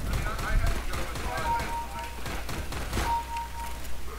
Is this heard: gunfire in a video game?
yes